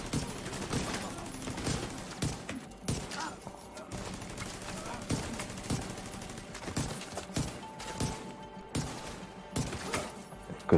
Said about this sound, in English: Let my turret take care of these.